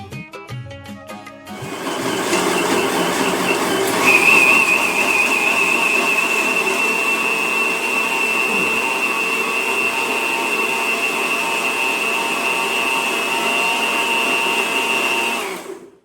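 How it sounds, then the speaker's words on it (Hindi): A mixer grinder grinding spices roars continuously for about fifteen seconds with a high whine, after a brief clatter at the start, then cuts off. "तो हम आ गए हैं मिक्सी में पीसने के लिए।"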